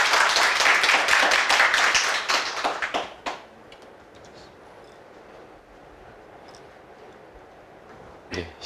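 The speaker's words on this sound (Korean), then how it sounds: "우리 김상국 대표를 큰 박수로 맞아주시기 바랍니다" Applause greets the author and CEO of Vitamin House as he takes the stage at a book launch lecture. Dense clapping runs for about three seconds and then dies away, followed by quiet room tone and a short burst near the end.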